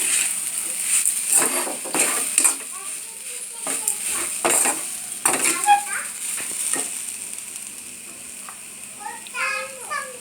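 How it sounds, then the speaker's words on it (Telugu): Grated coconut roasting in a pan for a curd chutney, a soft sizzle with repeated stirring scrapes and clatters near at hand, while children's voices chatter in the background. "ఇలా కొబ్బరిని దోరగా వేయించుకోవాలి."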